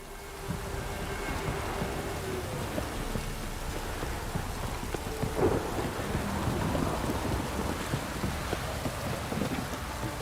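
Rain falls steadily over a stormy landscape in The Witcher 3, with a low roll of thunder rumbling partway through under the constant hiss of the downpour.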